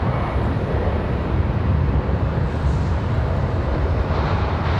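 Spirit Airlines jet departing Raleigh-Durham airport toward Fort Lauderdale, a broad steady engine roar heard from a distance, alone without voices.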